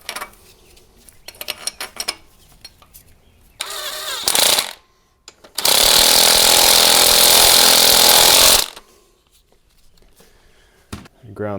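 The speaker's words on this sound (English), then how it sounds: "This is galvanized, so I'm gonna have to kind of grind this down a little bit before I weld it." An angle grinder grinds galvanized metal before welding, working on a 70-year-old Rolls-Royce crate engine project. The grinding is one loud, steady burst of about three seconds among clattering handling noises, and someone speaks before and after it.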